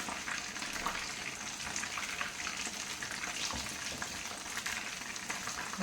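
Chicken frying in hot oil, a steady dense sizzle with crackling pops that holds evenly throughout, close and fairly quiet with no talk.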